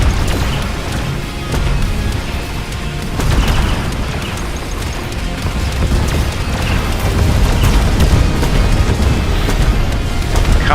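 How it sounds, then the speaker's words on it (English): Rockets are shot down in a video game, and the explosions come as a dense, loud barrage of deep booms and bursts that rumble on without a break. "Shooting down our rockets"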